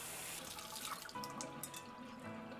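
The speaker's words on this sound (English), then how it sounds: "take off the pan from the heat and then just rinse it off as usual" A pan is rinsed under a running kitchen tap, water streaming and splashing steadily with light drips and clatter, faint and close, with no talk.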